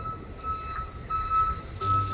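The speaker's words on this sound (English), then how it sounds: "while the truck backs into my life" A truck backs up with its reversal alarm sounding repeated steady high beeps over a low engine rumble, fairly close, with no talk.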